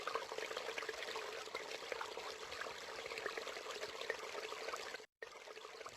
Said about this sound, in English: The sink is dripping and wasting water resources.